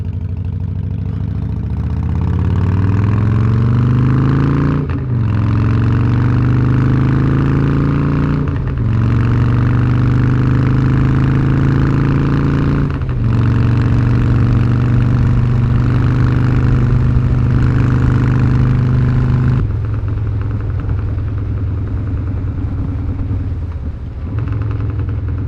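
Harley-Davidson Softail motorcycle engine running while riding, a loud, close, steady rumble that rises in pitch through the gears, with brief dips at each shift, continuing throughout without any talk.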